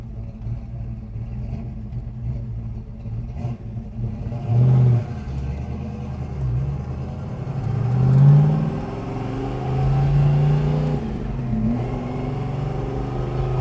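A 1966 Chevrolet Malibu Chevelle classic car drives along with a steady engine rumble heard from inside, swelling in a few brief revs and accelerations before settling again.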